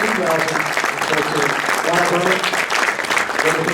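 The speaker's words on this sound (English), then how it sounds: "Round of applause, please." Steady applause rises for Poker Hall of Fame inductees at an induction ceremony, a dense wash of clapping from a large audience with voices talking over it throughout.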